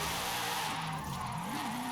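In Forza Horizon 5, a car's tires skid and squeal as the rear end slides out under acceleration, with the engine droning loudly under a continuous screeching slide.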